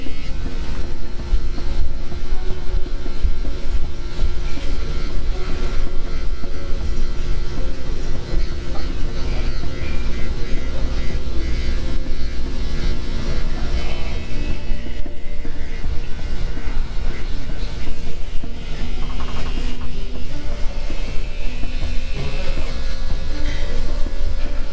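Electric skincare pen buzzing steadily through a men's facial treatment, a continuous close, even-level hum with a faint whining tone that runs the whole time with no talking.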